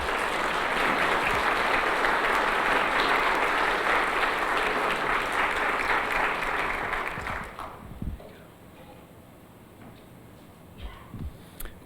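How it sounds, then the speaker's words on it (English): An audience at a Christian gathering gives a former bodybuilding champion a warm round of applause, a loud, dense crowd clapping that holds steady for several seconds, then thins to scattered claps and quiet room noise. "let's give Mick a warm round of applause"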